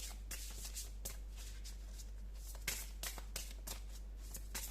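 Tarot cards riffled and shuffled by hand in a quiet room, a run of crisp papery flicks and short bursts repeating across the stretch, close and steady with no talking.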